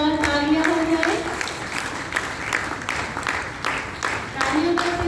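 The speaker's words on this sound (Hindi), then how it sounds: "तालियों का सिलसिला चलता रहे जब तक हमारे सभी दीदियां स्टेज पर उपस्थित होते हैं।" An audience at a guided yoga and Rajyoga meditation gathering applauds to welcome a senior teacher to the stage. Steady, moderately loud clapping continues throughout, with a sustained tone near the start and end.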